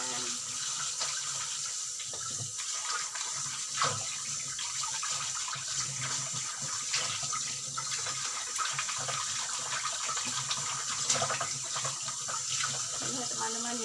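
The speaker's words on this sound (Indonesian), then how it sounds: "Dan ini wadah makannya mereka. Kita cuci terlebih dahulu ya teman-teman ya, dan kita keringkan." Steady stream of tap water running over cat food bowls being rinsed in a sink, continuous splashing and gushing close by with faint clinks of handling throughout.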